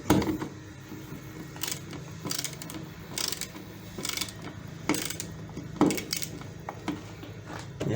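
A screwdriver tightens the screws holding an electrical outlet in place, giving irregular close scraping, clicking and ratcheting bursts separated by short pauses.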